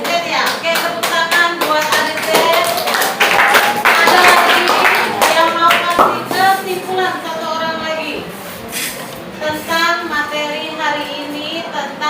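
A junior high classroom in Singkawang breaks into applause, a burst of many hands clapping that swells and then fades, with students' and a teacher's voices running over and after it.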